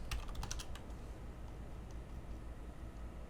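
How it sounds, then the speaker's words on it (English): Typing on a computer keyboard while searching the Far Cry 5 map editor, with a quick burst of close, clicky keystrokes at the start and then only scattered faint taps over a low steady hum. "I'm gonna type in pebble."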